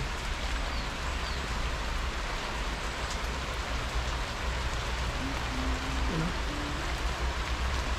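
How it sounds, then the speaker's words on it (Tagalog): Heavy rain falling in Baguio in a dense, unbroken hiss, loud and steady from start to finish, with a faint brief tone partway through. "Medyo may kalakasan."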